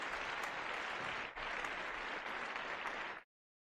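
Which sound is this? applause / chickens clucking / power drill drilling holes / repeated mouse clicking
applause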